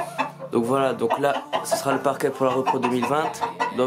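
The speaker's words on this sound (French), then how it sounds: "c'est le coq qui crie, composé d'un coq noir" A black Alsace large-breed rooster crows repeatedly in a poultry breeding setup, its calls mixed under someone speaking French close to the microphone throughout.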